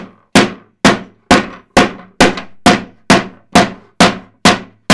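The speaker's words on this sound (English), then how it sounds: "This is a real hammer. This is a real FlexScreen. And I'm going to see if I can do some damage." A real hammer strikes a FlexScreen eleven times in a steady, evenly spaced rhythm, each blow a loud, close, sharp thwack followed by a short decaying ring.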